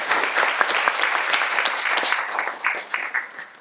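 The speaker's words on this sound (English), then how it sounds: "you deserve a round of applause." A room of guests at a B'nai B'rith 180th anniversary event breaks into sustained applause, full and even, then thinning into scattered claps near the end.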